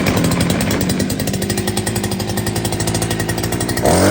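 A petrol brush cutter revs hard just after being started, its engine running loud and close with a steady buzzing roar that drops away near the end.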